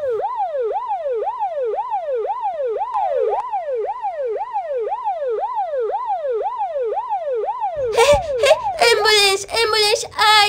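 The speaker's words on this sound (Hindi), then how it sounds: "और फिर तभी यहाँ पर एम्बुलेंस भी आ जाती है" A loud wailing ambulance siren cycles rapidly and steadily, then excited voices break in over it near the end.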